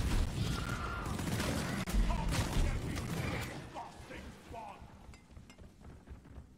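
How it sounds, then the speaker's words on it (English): Loud booming blasts and crackling gunfire from the video game Deep Rock Galactic, dense and chaotic at first, then thinning out toward the end. "Explosions!"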